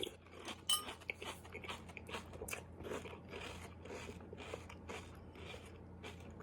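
Someone crunches and chews a mouthful of Frosted Flakes Pumpkin Spice cereal up close, with brittle crackling bites in a steady rhythm throughout.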